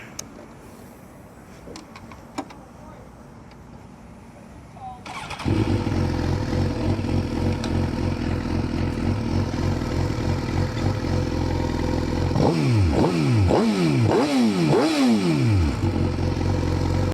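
Motorcycle engine starting at night after a quiet lead-in, then settling into a loud steady idle, with several sharp throttle revs rising and falling near the end.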